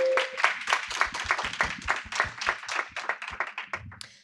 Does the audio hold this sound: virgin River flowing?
no